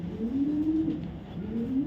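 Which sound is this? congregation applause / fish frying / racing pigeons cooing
racing pigeons cooing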